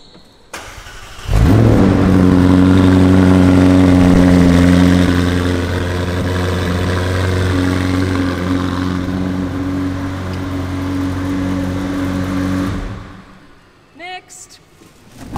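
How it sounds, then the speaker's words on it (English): A Lamborghini engine cold start: it cranks and fires up with a loud roar, then settles into a deep, throaty idle for several seconds before cutting off. "These are all cold starts, so they're gonna sound epic."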